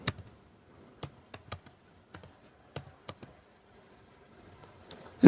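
Sparse keystrokes tap on a computer keyboard, a dozen or so quiet, separated clicks in an irregular rhythm over a near-silent background.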